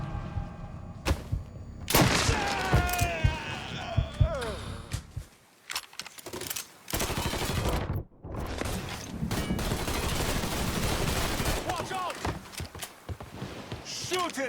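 Bursts of gunfire in the video game Mafia 3 Definitive Edition, sharp rapid shots crackling in clusters amid a chaotic firefight, with players shouting over them and brief quiet gaps between volleys.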